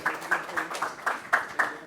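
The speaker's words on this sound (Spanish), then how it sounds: "un aplauso a todos los panelistas" An audience applauding panelists at a Chamber of Commerce business talk, sparse, rhythmic clapping close by, fairly light and steady.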